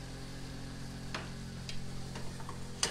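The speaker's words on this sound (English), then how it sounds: "And then when I mix this up," Equal parts butter and flour being stirred into a roux in a pan on the stove, a few soft scraping clicks over a faint steady sizzle.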